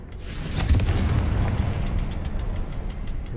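A Confringo spell explodes in the video game Hogwarts Legacy, a single booming blast with a sharp onset followed by a long rumbling decay and crackling debris.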